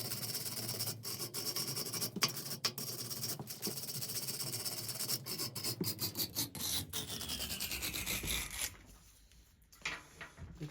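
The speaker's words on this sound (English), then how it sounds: "Let's grab the wire brush and see if we can make this clean." A wire brush scrubs carbon off a spark plug in quick, rasping back-and-forth strokes, loud and close, continuing steadily before easing off near the end.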